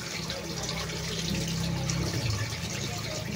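Tap water runs steadily into a kitchen sink during food preparation, a continuous broadband hiss close by that stays constant throughout, with faint voices in the background.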